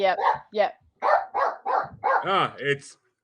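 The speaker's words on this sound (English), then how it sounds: "it's so nice to have somebody else's dog barking on a podcast." A dog barking repeatedly in a house, a run of close, loud barks and yips in quick succession with short gaps, some drawn out into whining tones.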